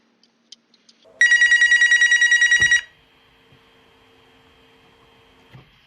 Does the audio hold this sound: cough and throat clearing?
no